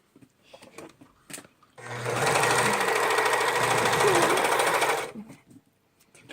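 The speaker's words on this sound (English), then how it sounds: "So same basis, you're gonna sew the edge." A sewing machine stitches along the edge of a neckband in one steady, loud whirring run of about three seconds. Faint handling clicks come before and after it.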